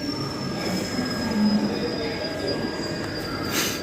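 Train wheels squealing at a railway station, a sustained high metallic screech over a steady rolling rumble, near and fairly loud with no talk.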